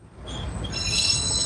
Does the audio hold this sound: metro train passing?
yes